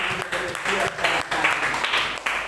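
Church congregation at a Timor Leste sermon clapping for God, a loud burst of many hands with voices speaking and calling out over it.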